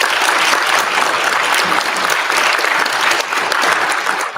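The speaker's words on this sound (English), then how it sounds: "Give a hand clap." Steady, dense applause from an audience at a celebrity panel during the Huntsville Pop Culture Expo 2023, many hands clapping together at full volume with no speech over it.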